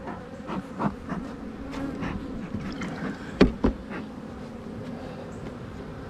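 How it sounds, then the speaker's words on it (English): A dense, steady buzz of many bees in a packed hive close by, with a few sharp knocks and clicks breaking through partway. "Looks like it's packed out really well with bees. They're coming up."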